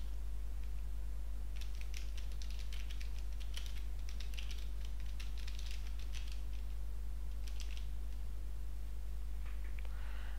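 Fingers type on a computer keyboard to enter an email address while setting up a Drupal 7 site, quick clustered bursts of light clicks with short pauses, close and clear over a steady low hum.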